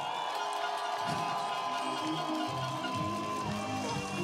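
A live audience at a concert-style event cheers and claps continuously, a dense roar of crowd noise with whoops, steady and fairly loud throughout.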